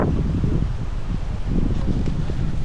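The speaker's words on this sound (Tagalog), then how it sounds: "Malakas kasi hangin no. Huli ng hangin." Strong wind sweeping across a riverside farm, a continuous low rumbling buffet against the microphone with gusty surges, loud and unbroken across the short stretch, no voices.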